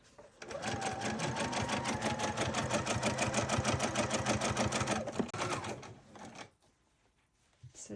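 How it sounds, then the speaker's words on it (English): A sewing machine runs a steady, fast zigzag stitch over a twisted cord while sewing a silk scarf jacket, a continuous loud rattle for about six seconds before stopping, with a brief voice near the end. "the needle's going zigzagging on top of the cord"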